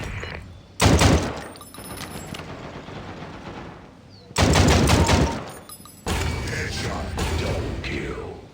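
Gunfire in the shooter game Combat Master, heard as three dense bursts of rapid automatic fire with long gaps of quieter game ambience between them.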